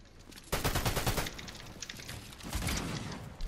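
Shotgun fire in the online shooter game The Finals, loud rapid bursts of gunfire in two clusters with dense booming blasts, no talking.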